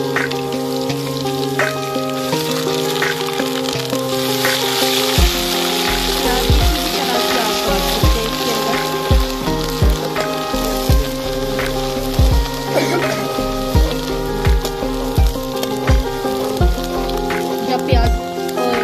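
Ginger and garlic fry with onions in a pan, a continuous loud sizzle and crackle with regular soft knocks, close up, with no talking.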